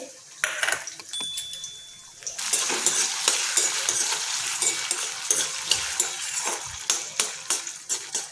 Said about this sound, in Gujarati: જીરું આપણું કકડી ગયું છે એટલે આપણે બટાકા નાખી દીધા છે